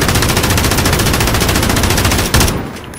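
An MG34 machine gun in Call of Duty Modern Warfare rattles in one loud, close, sustained automatic burst that cuts off near the end, leaving a fading tail.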